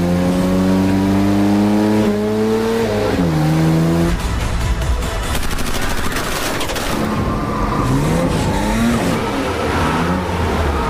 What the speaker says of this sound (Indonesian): dia menunjukkan skill mengemudinya dengan memacu kendaraan itu menggunakan kecepatan tinggi